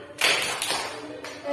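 A school class doing a concentration clap, a burst of many hands clapping together in rhythm, loud and close, with voices mixed in.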